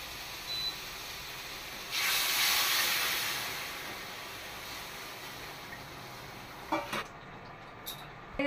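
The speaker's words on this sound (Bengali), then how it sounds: "এবার জল দিয়ে দেবো।" Water poured into a pan of frying pipul greens sets off a sudden loud hiss that slowly fades over several seconds, followed by a few short clinks near the end.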